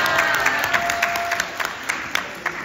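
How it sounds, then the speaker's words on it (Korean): Loud audience applause from a crowd at a business seminar, with a dense wash of clapping punctuated by sharp individual claps and light cheering, all close and lively. "박수 크게 치세요."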